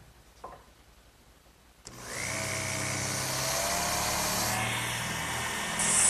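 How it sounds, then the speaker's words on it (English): Power drill boring holes into a wooden base, starting with a sharp click and then a steady whirring drone that holds loud and close for several seconds. "These marks will precisely locate where I have to drill my holes in the base."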